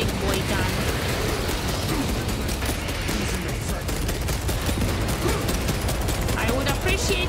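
Heavy gunfire from a large weapon in Space Marine 2, a dense, continuous roar of shots and battle noise filling the scene, with a voice speaking over it.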